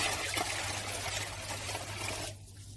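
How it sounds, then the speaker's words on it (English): Four liters of drinking water poured steadily into a banana and honey wine mixture, a continuous close splashing rush that stops abruptly near the end. "Next, add water."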